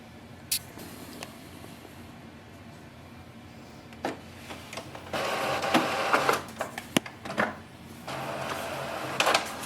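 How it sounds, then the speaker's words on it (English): An Epson WF2860 inkjet printer prints a nozzle check sheet. Quiet mechanical whirring is broken by clicks and a sharp snap, followed by louder bursts of carriage and paper-feed motor noise near the end. "Next step is to print the nozzle check sheet."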